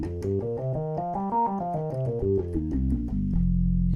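Roland Juno 106 synth with a resonant, nasal filter peak and keyboard tracking at full, playing a quick run of stepping notes up and down before settling on a sustained low note, loud and alone.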